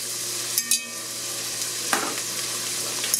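Onion, a large pepper and two serrano chiles sizzle steadily in oil and butter in a pan, a constant frying hiss broken by a few soft clinks of stirring, with no talking.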